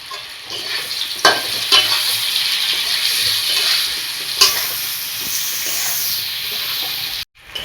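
Pieces of elephant foot yam fry in a pan of hot oil with salt and turmeric, giving a bright, steady sizzle with several sharp spatula knocks and stirring scrapes, ending in a brief abrupt gap before the sizzle returns.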